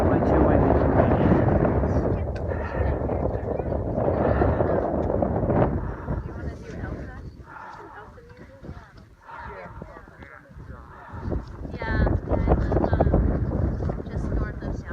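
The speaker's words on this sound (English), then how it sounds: "Way too windy for me." Heavy wind buffets the microphone in loud, rumbling gusts on a mountain summit on the Appalachian Trail, with a person talking through and over the roar at times.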